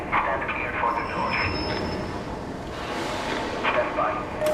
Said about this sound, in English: Metro is arrived. Stand clear for the door.